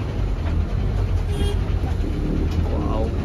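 Road traffic idling and moving at a railway crossing near the tracks just after a train has passed: a steady low engine rumble from buses, cars and trucks, constant throughout, with faint scattered sounds on top.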